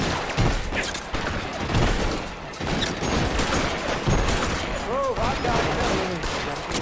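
Rapid bursts of gunfire fill a shootout in the L.A. Noire video game featuring Detective Phelps. The shots run almost continuously and loud, with a brief spoken line over them.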